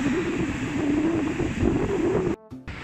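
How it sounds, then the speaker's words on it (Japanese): Big surf and wind at Bondi Beach, Australia, a steady loud wash of breaking waves with wind rumble on the microphone, cutting off abruptly near the end. "結構ね、波がでかいんですよ。"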